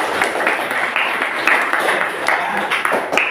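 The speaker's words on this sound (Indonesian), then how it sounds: "tepuk tangan semua" A class of students applauding together in a classroom lesson, a short burst of steady mixed clapping at moderate volume with faint voices in the background.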